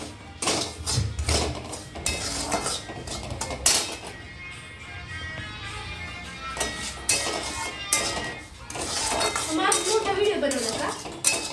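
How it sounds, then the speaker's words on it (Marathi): Semolina (rava) being roasted for sheera, a utensil scraping and knocking against the pan in repeated close clatters over a busy household background, with faint voices. "असा रवा भाजून घेते मी."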